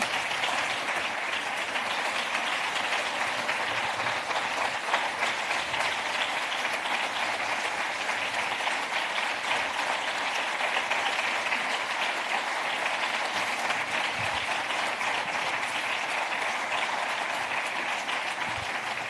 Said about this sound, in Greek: Ένα μεγάλο χειροκρότημα.